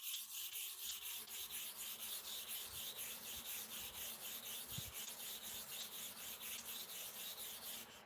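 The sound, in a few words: sharpening clipper blades by rubbing strokes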